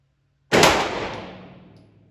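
A rifle fired at target practice: one loud, close shot that bursts out of silence and rings away in a long fading tail.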